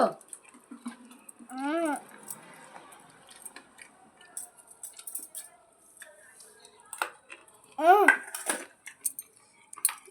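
A family meal at the table brings scattered clinks and scrapes of cutlery against dishes, light and close, with speech and some chewing between the bursts.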